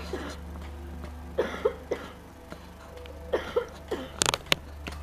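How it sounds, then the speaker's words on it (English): A person coughs several times in short bursts. The coughs are spread across a quiet stretch, and there is a cluster of sharper, throat-clearing hacks near the end. "Sorry guys, I've been having a little bit of a cough lately."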